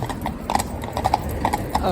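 Friesian horses' hooves clip-clop in a steady irregular rhythm of sharp close knocks, several footfalls over two seconds, with speech running underneath.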